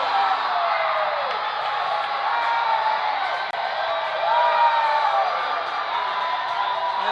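Loyola Academy's lacrosse bench erupts in sustained crowd cheering, whoops and screams after Declan Darcy's goal against Glenbrook North, a dense, loud roar of many voices that holds steady throughout.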